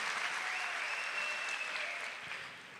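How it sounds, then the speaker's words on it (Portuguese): Church audience applauding volunteers, a dense, steady wash of clapping from a large crowd that holds evenly then fades slightly toward the end. "Uma salva de palmas aos nossos voluntários"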